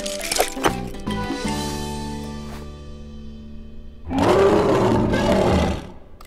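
A cartoon jeep horn made to sound like a lion's roar bursts out loud and sustained for about two seconds, following tonal musical cartoon sound effects.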